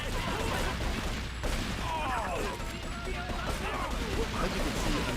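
Uzi gunfire in GTA 3 on the Portland waterfront against Triad gang members, rapid bursts of automatic fire mixed with game effects, moderately loud and continuous.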